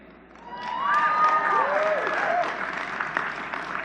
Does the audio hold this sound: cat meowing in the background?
no